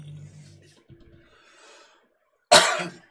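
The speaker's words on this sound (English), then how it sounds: "Sorry guys if I cough a lot." A single harsh cough bursts out near the end, loud and close, after a stretch of quiet rustling and faint murmuring.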